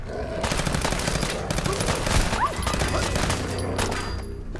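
A rifle fires in the video game Fallout 4, with heavy recoil. Rapid, dense bursts of close, loud gunfire run almost without a break.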